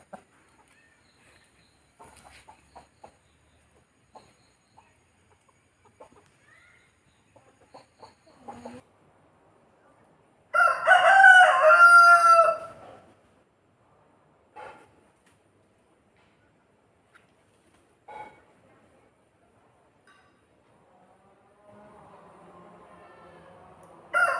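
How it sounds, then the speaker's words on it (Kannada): Chickens let out of their coop are mostly quiet, with scattered faint clucks. About midway, one loud, drawn-out crowing call lasts a couple of seconds, then the sparse soft clucking resumes. "ಇವತ್ತು ನಮ್ಮನೆ ಕೋಳಿಗಳೆಲ್ಲ ಬಿಟ್ಕೊಬಿಟ್ಟಿದೆ"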